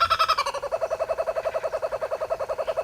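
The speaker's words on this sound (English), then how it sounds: "This is the laughing kookaburra, or giant kingfisher here." A laughing kookaburra at the Australian exhibit of Blank Park Zoo calls in a rapid, rhythmic chuckling series, loud and close, with the pulses holding steady pitch after a brief higher opening.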